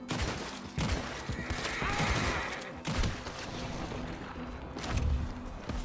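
Rapid bursts of pistol gunfire in Red Dead Redemption crackle continuously amid a dense, noisy battle din, with sharp shots standing out over the clatter.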